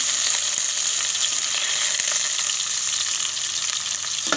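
Small onions and curry leaves sautéing in hot oil for a fish kulambu, giving a loud continuous sizzle close by, with faint stirring scrapes and no talking.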